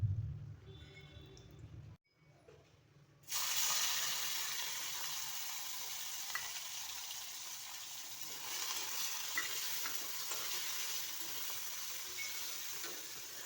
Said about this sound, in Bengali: প্রথমে আমি মাছগুলোকে ভেজে নিচ্ছি। রান্নাটা আমি সরিষার তেল দিয়ে করব।